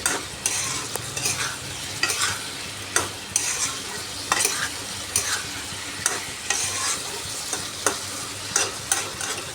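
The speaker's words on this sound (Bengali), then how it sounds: "এবার ভালো করে কষিয়ে জলটাকে শুকিয়ে নিতে হবে" Vegetables with lentil dumplings (dal bora) being sautéed over medium heat to cook off released water, a continuous close sizzle with repeated sharp spatula scrapes and taps against the pan, no voices.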